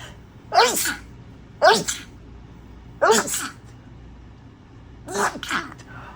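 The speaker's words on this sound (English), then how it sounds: "it's just not going to be a reading unless I sneeze" Four sharp sneezes burst out at irregular intervals from a nearby person, with quiet breathing in between.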